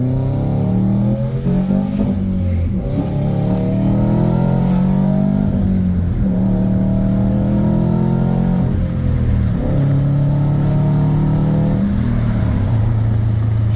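A 2004 Subaru WRX STI, 6-speed manual AWD rated at 300 hp with an aftermarket exhaust, pulls hard through several gears, the engine note climbing, dipping at each shift, then climbing again, loud and close from inside the car.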